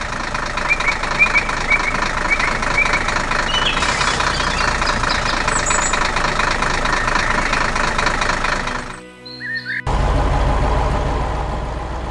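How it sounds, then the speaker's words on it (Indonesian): A cartoon red tractor's heavy engine runs and knocks steadily at close range while drilling ground in a forest, briefly dropping out before surging back loud; no talking. "Traktor merah sedang mengebor tanah di hutan, membuat lubang besar di bawah tanah."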